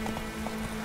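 Horse hooves in the video game The Witcher 3: Wild Hunt, a faint, quick rhythmic clopping over a steady low hum, brief and without talk.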